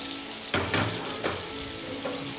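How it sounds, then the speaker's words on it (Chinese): Mushrooms and zucchini pan-frying to brown, a steady close sizzle with a few louder bursts as pieces are stirred or turned, no talking. "再 把它煎上色。"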